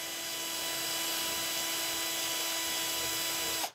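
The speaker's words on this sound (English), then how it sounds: "then we're going to use a drill bit to clean the inside here" A drill bit scrapes inside a valve core depressor while a liquid vaporizer for refrigerant charging is being made, giving a steady high-pitched whine that runs unbroken and cuts off abruptly at the end.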